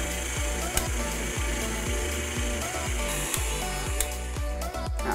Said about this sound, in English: On goes the mixer.